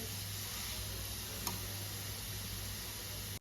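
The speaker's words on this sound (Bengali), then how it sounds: "গাজরটা আস্তে আস্তে ভাজা হচ্ছে।" A steady, even sizzle of grated carrot frying in a pan for carrot halwa, with one brief click partway through; no voices.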